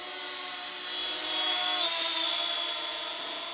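High, steady whine of the small propellers on a JJRC H37 Elfie foldable selfie quadcopter drone in flight, close and continuous, its pitch rising slightly and then settling as the motors change speed.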